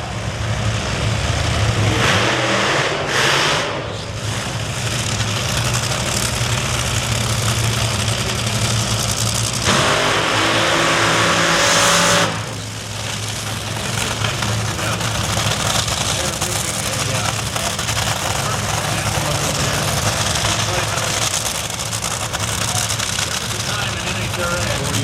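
A Top Fuel or Funny Car NHRA drag racing engine runs at a loud idle, a constant heavy rumble that briefly surges louder mid-stretch before settling back.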